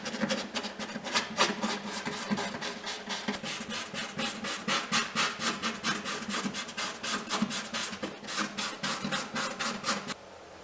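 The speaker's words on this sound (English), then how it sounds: "this is a pretty fine grit sanding block, and I'm going to use that to just rough up this area" Steady back-and-forth rasping of a fine-grit sanding block scrubbing a surface to rough it up, close and rhythmic, about two strokes per second, stopping near the end.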